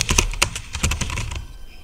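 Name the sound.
typing on a computer keyboard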